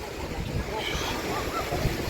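Broadband wash of waves in a massive outdoor wave pool in Tenerife, a steady, continuous surf roar with wind noise against the microphone and no clear breaks.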